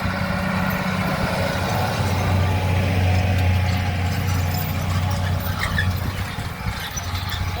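A John Deere 7290R tractor with a turbo attachment works a hilly field, breaking up clods for planting. Its loud, steady engine drone runs throughout, with a faint mechanical squeal and rattle on top and no talking.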